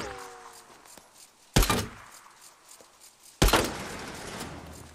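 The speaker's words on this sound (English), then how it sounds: "I can shoot the latch" Two sharp, loud gunshot impacts striking a metal latch in the video game Days Gone, spaced about two seconds apart, each with a brief ringing tail over a quiet background.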